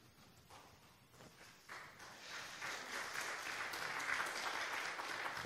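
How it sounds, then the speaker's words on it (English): Church congregation applause after a sermon, starting sparse and faint, then swelling into a fuller, steady clapping from many people that carries on to the end, heard from a distance. "they're in a clapping mood today"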